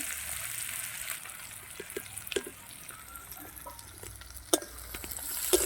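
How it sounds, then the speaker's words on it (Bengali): Onions and green chillies fry in hot oil in a wok, a low steady sizzle broken by scattered spoon scrapes and taps. "এবারে পেঁয়াজ কাঁচা লঙ্কাটা লাল লাল করে ভেজে নিই।"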